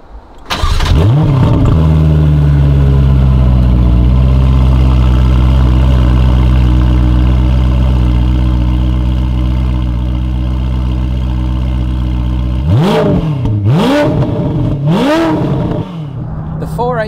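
A Ferrari 488 Pista with an upgraded race exhaust, a track-focused Versione Speciale, barks into life and then holds a loud, steady drone while driving, before three sharp rising revs near the end, with no talk over it.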